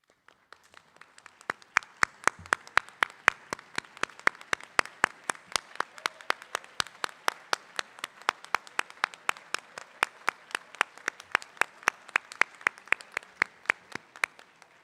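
Sustained applause from a crowd at a graduation ceremony, sharp claps piling up into a dense, steady patter that continues throughout at moderate volume.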